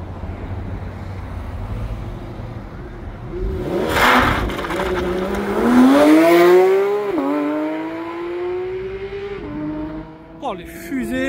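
A Porsche 911 GT3 RS (992) sports car at a supercar meet roars past, rising through the gears with sharp upshift breaks and wind buffeting, then fades into crowd noise.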